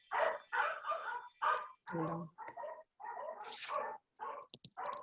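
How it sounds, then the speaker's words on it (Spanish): Several pet dogs bark in quick bursts indoors, the loud yaps and yips overlapping with someone speaking Spanish in between. "Perdón, que están ladrando mis perros."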